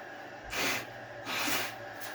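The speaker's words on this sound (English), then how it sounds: "I'm going to blow my schnoz here for a minute" Two forceful, breathy nose blows close up, each lasting about a third of a second with a short pause between.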